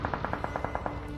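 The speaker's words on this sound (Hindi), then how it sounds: "अब जो ये फायरिंग हो रही है इसको जस्ट आप नोट करो" Rapid automatic gunfire in a battle royale shooter game, around nine evenly spaced shots in quick succession, somewhat distant and muffled over a steady background hum.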